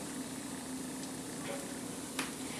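Hotteok, Korean filled pancakes, sizzle steadily in a frying pan, a continuous close crackle with a faint tap near the end and no talking.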